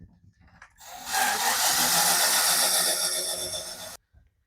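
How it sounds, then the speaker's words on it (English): A power drill pre-drilling holes for a bunk window install whirs up and runs at a steady high whine for about three seconds, then cuts off abruptly, close and loud. "now I'm going to pre-drill down here in the middle and the bottom"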